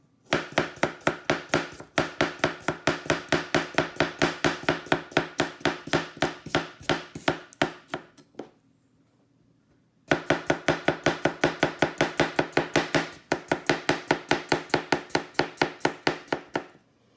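A Japanese chef knife slices a vegetable thinly for salad on a cutting board, giving fast, even rhythmic chopping taps in two long runs split by a brief pause, close and clear with no talking.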